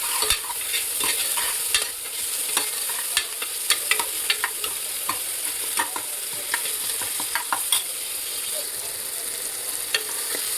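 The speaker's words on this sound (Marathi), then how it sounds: "आता त्याच्यात मी टोमॅटो टाकून घेते. टोमॅटो टाकलं की लगेच त्याच्यामध्ये हळद आणि मीठ टाकून घेते." Tomatoes fry in a pan with turmeric and salt, giving a steady close sizzle throughout. Frequent light clicks and scrapes from stirring punctuate it, and no one speaks.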